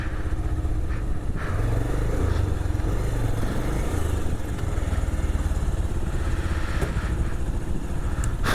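A motorcycle engine idles and putters steadily nearby as the bike is parked at a motorcycle festival, loud and constant throughout with a few faint knocks and clicks over the drone.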